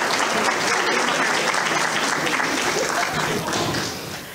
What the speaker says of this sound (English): For you, they're clapping